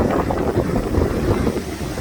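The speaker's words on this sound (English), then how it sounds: "The storm is coming in." Strong wind of an incoming storm buffeting the microphone by the sea, a loud continuous rushing roar with gusty swells and low rumble, no voices.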